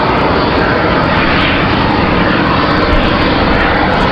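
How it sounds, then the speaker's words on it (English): A Boeing 757 airliner departs Raleigh-Durham for Boston on a windy day, its engines a loud, steady, broadband roar filling the whole stretch at close range with no talk. "that's 757 on the move, headed up to Boston there"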